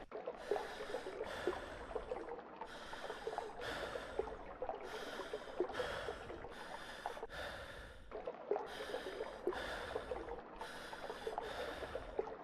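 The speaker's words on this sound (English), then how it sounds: "I don't know why I can still hear my dude panting" A game character in The Backrooms pants in a steady rhythm of about a dozen quick, close breaths, each a short airy burst, with a faint watery trickle underneath.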